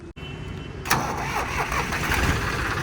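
A Sonalika 35 tractor engine cranks and catches with a sudden roar, then settles into a rough, steady idle.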